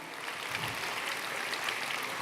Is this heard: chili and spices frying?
no